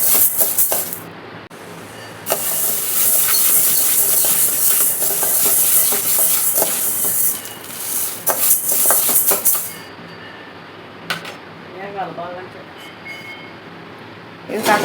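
Moong dal, pesarla pappu, dry-roasts in a pan with a loud, steady sizzling hiss, broken by metallic scrapes and stirring clatter of a spoon against the pan.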